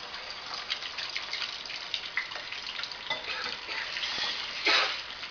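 Steady sizzling as instant noodles are stir-fried in a pan, with scraping, stirring sounds, a busy broadband hiss throughout and a louder burst near the end.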